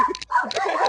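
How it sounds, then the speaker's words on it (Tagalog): A dog barks outdoors during a jog along a street in Batangas, a few short close yips and barks with a brief pause between them. "At may aso na nga."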